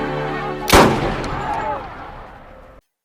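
A single loud gunshot sound effect marking police arriving at a kidnapping scene, a sharp crack with a decaying echoing tail under a low musical bed that cuts off abruptly.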